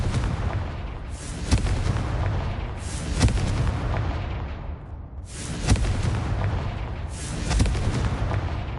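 Repeated Confringo explosion spells in Hogwarts Legacy land as several booming blasts over a few seconds, each one a sharp hit that trails into a rumbling decay over a continuous low roar.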